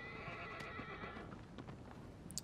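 A mare whinnies in the video game Shadow of the Colossus, a faint wavering neigh with clip-clop hoof sounds and a few soft knocks, no talking.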